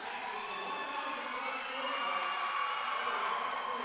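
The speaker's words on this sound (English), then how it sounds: "Standing ovation from the Moorhead crowd, deservedly so for Sam Zimmerman" A girls basketball crowd in Moorhead rises in a standing ovation, sustained applause and cheering forming a steady wash of noise in a gym.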